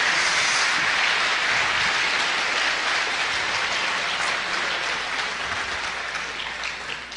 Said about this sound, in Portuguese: Dê para Jesus uma bem forte salva de palmas